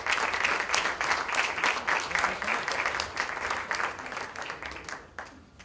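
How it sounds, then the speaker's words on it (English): An audience at a book launch bursts into loud, sustained applause with dense clapping that gradually thins and fades toward the end. "A loud round of applause for Mr. Amitabh Bachchan."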